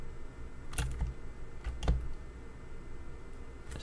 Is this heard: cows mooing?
no